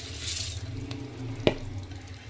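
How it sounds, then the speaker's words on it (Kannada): Washed rice tipped into a pan of frying mushroom gravy for biryani, giving a steady close sizzle with stirring scrapes and one sharp clatter of rice hitting the pan partway through, no voices. "ಮಶ್ರೂಮ್ ಗ್ರೇವಿ ಎಲ್ಲ ತುಂಬಾ ಚೆನ್ನಾಗಿ ಫ್ರೈ ಆಗಿದೆ ಈ ಟೈಮ್ನಲ್ಲಿ ನಾನೇನು ತೊಳೆದಿಟ್ಟಿದ್ನೆ ಆ ರೈಸ್ನ ಹಾಕೋತಾ ಇದ್ದೀನಿ"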